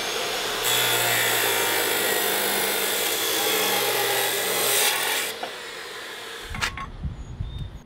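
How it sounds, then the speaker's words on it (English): Metal pipe being cut for a go-kart rear suspension brace in a workshop, a loud steady grinding rasp that runs for about five seconds, then cuts off and leaves a few clanks and knocks. "He is working on the rear suspension still, specifically cutting some pipe."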